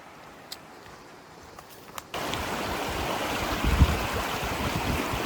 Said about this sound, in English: I know down here by the water it's gonna be hard to hear